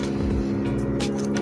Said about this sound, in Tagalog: pasensya na kayo sa dumadaan na mga sasakyan